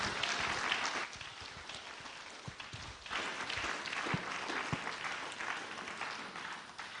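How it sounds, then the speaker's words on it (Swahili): Church congregation applauding during a Sunday service, steady moderate clapping from a crowd lasting several seconds, fairly distant and without speech over it. "Hebu tumpigie tena Bwana Yesu makofi"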